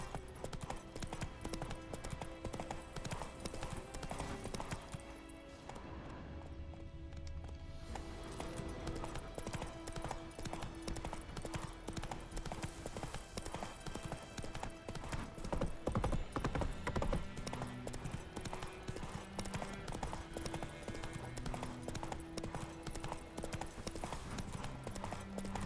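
Galloping hooves of Roach the horse in The Witcher 3, a rapid continuous clip-clop rhythm running throughout, fairly near and steady, with a brief lull midway and a faint musical bed beneath.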